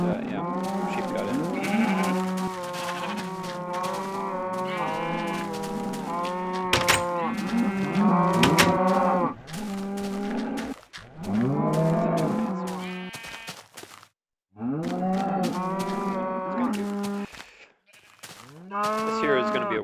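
Cows mooing and sheep bleating in the video game Minecraft, a near, loud run of overlapping drawn-out calls with brief pauses between them.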